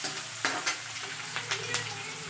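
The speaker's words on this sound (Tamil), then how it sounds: "வெங்காயம் ஜாஸ்தி வதங்கணும்னு அவசியம் இல்லை, கொஞ்சமாக அப்படி வதங்கினா போதும்." Onions sauté in a pan for poha with a soft, continuous sizzle, broken by several quick scraping clicks as they are stirred.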